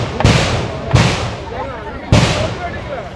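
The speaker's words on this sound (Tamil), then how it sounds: "ஓ பட்டாசுக்காரனோ" Firecrackers go off during an outdoor Tamil street theatre comedy performance, with three sharp, loud bangs spaced about a second apart, each followed by a crackling decay, and voices talking between them.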